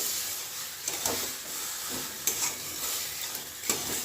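Steady sizzling from a hot pan with a few clinks and scrapes of a spatula stirring, close and fairly loud, no voices.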